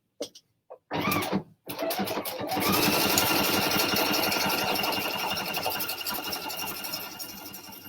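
A PFAFF sewing machine stitches along a fabric fold after a couple of brief starts, then runs steadily with a loud, continuous whirring hum close by.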